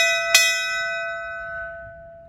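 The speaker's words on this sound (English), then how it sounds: "We'll ding the bell." A single loud ding of a fire engine bell at a fire station, its bright metallic tone ringing on and slowly fading away.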